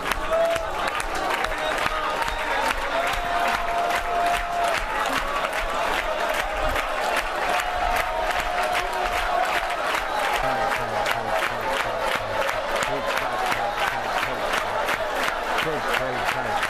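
A church congregation claps in a steady rhythm while singing a Hindi worship song, the dense, even clapping running continuously under the crowd's voices.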